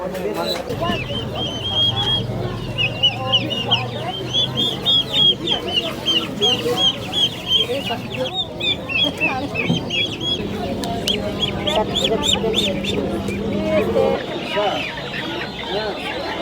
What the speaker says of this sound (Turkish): Genelde tavuk, piliç var.